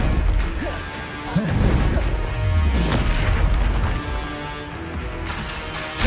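The Expelliarmus spell is cast in the Hogwarts Legacy video game, heavy crashing impacts and booms landing amid dense combat effects, loud and close, with a voice calling out briefly over the action.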